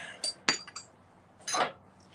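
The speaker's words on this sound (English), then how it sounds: "Don't you love how I just have all this banging together?" Glass dishes, including holiday candy cane bowls, clink and knock together in a few short, sharp bursts at close range, separated by brief quiet gaps.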